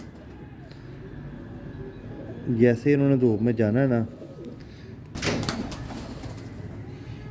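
A female pigeon of a golden breed, kept indoors, gives a short run of close, throaty cooing, a few rolling calls in a row, while someone talks before and after.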